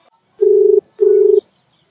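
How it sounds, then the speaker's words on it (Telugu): A telephone call rings out unanswered: two steady ringback tone bursts, each about half a second long, separated by a short gap and clear against silence. "ఏంది ఫోన్ లేపుతలేరు?"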